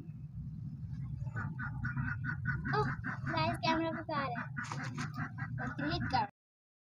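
Chickens clucking and ducks quacking close by in a busy, overlapping chorus of squawks and calls that grows livelier toward the end before cutting off.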